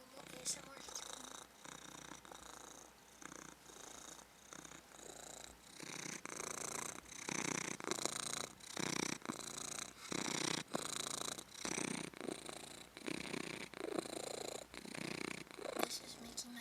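A cat purring steadily and close up in a rhythmic series of soft pulses, with a person talking faintly in the background.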